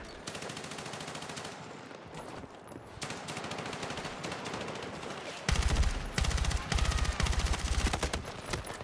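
Automatic gunfire in the video game Battlefield 6, with rapid sustained bursts and short gaps between them, loud and close, growing heavier and deeper toward the end.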